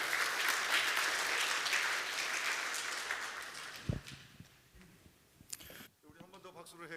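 A church congregation at a Sunday service applauds with dense clapping that gradually thins and fades, followed by a few scattered claps, shuffling, and someone beginning to speak.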